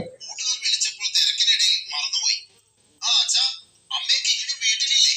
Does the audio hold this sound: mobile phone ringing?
yes